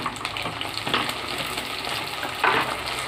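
Tomato pieces dropping into a pan of frying onions, a soft continuous sizzle with a couple of brief splashy bursts as the pieces go in, no voices.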